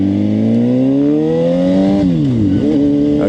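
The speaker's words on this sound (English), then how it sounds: "I don't like that sound coming from the clutch when I downshift." Suzuki GSX-R 750 motorcycle engine revving up, then dropping sharply on a downshift with a clattering clutch noise, loud and close as it rises, dips and recovers.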